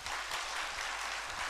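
A church congregation at a youth worship service claps together, a dense, steady wash of many hands that stays loud and even for the whole stretch, with no voices on top.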